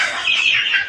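Chickens cluck steadily and close by as they are fed rice paddy, a dense chorus of short bright calls with no talking.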